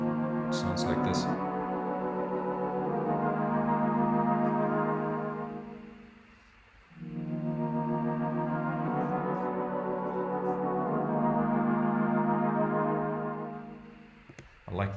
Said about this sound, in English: And I added another version of the pad sound here